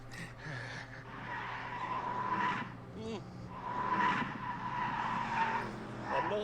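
A car braking hard and skidding in The Grand Tour video game, with sustained tire squeal rising and falling over engine noise. A voice talks over it.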